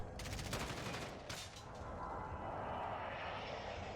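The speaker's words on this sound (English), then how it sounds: "we finally got our gun out and started shooting." Rapid gunfire bursts crackle in the Warzone video game, a quick volley of shots followed by a softer, sustained rumble of in-game ambience.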